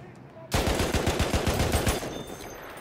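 Rapid automatic gunfire in Battlefield 1 at Heligoland Bight, a loud close burst of about a dozen evenly spaced shots over roughly a second and a half, then a fading echo.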